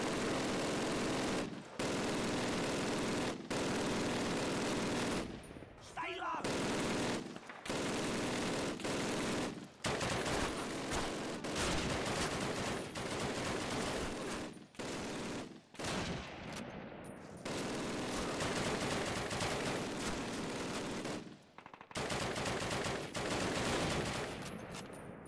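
Sustained bursts of automatic gunfire from enemy soldiers rattle through a Call of Duty British campaign battle at a V-2 rocket site, loud and dense with brief gaps between volleys.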